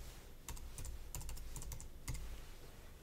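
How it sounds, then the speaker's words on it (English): Administrator password typed on a computer keyboard: a few quick key taps in small bursts, close and fairly quiet, with no talking. "you're going to have to enter your administrator's password"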